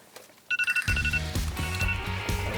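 A phone alarm suddenly goes off, starting with a few quick pulsing beeps and then running into a loud, repeating electronic ring tune that continues to the end, with no one talking over it.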